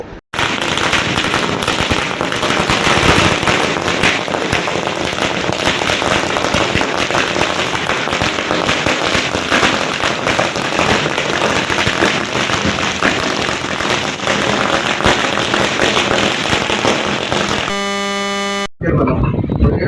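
Firecrackers set off at an outdoor celebration after an electrical contractors' association election, a dense, loud, continuous crackle of bursts lasting nearly twenty seconds before cutting off abruptly near the end.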